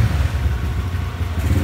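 A restored Yamaha LC135 motorcycle with a drag exhaust idles and revs close by, giving a steady, loud low engine throb that stays even through the short clip.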